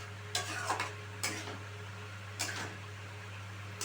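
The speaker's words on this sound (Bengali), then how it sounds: "এবার খুব ভালোভাবে আমি সমস্ত মশলার সাথে মিশিয়ে নেব।" Potatoes for aloo dum being stirred together with spices in a pan, with a few scraping, scratching strokes of the spoon over a steady low hum, no voices.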